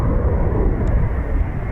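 Eurofighter Typhoon FGR4 fighter jet making a low approach at RAF Coningsby, a steady loud broadband jet roar with strong low-end rumble filling the whole moment without talk.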